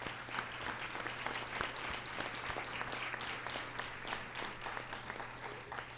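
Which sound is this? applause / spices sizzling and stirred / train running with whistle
applause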